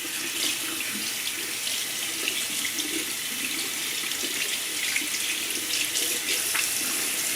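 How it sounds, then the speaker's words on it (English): Tap water runs steadily into a sink while a shaving brush is rinsed beneath it, a constant close splashing hiss with small fluctuations. "So I'm going to take the brush and rinse it."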